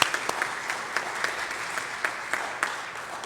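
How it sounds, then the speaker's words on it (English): A church congregation applauds a volunteer of the month at an All Souls homecoming worship service, steady clapping throughout with sharper individual claps standing out, moderately close and filling the room. "Round of applause."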